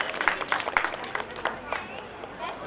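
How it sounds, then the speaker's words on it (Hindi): A crowd at a Women's Day celebration claps, a brisk uneven spatter of hands that keeps going through the short stretch, fairly close and steady. "एक बार जोरदार तालियां हो जाए इनके लिए"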